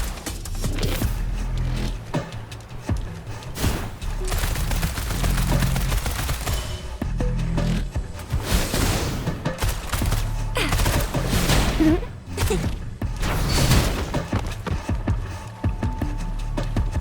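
Rapid gunfire from the video game Wuthering Waves, dense bursts of shots with brief gaps between volleys, loud and close throughout.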